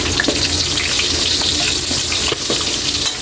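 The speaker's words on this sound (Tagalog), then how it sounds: "mag-umpisa na tayong mag-gisa sa ating sangkap" Garlic sizzles and sautés in a reduced amount of cooking oil in a pan, a steady loud crackling hiss with occasional stirring clicks, heard alone without voices.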